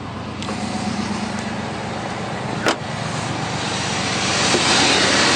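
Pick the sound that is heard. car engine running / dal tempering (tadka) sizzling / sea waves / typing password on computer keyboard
car engine running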